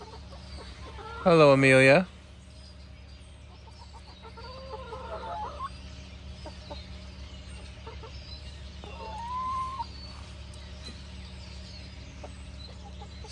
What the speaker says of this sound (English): Good morning, chickens. I'm gonna sit with you today.